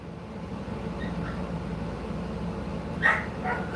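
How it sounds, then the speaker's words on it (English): A puppy barks outdoors, a short sharp burst of yips near the end over a steady low background hum. "If my son ain't here and I ain't got him out, all he does is bark, bark, bark."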